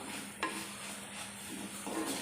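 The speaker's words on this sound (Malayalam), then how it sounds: "നമുക്ക് നമ്മുടെ സവോളത്തോരൻ ഒന്ന് ഇളക്കി നോക്കാം ഇടയ്ക്കിടയ്ക്ക് ഇങ്ങനെ തുറന്നൊന്ന് ഇളക്കി ഇളക്കി കൊടുക്കണം" Steady sizzling of an onion stir-fry in an earthenware pan, with a few soft scraping stirs and light clinks rising above the hiss.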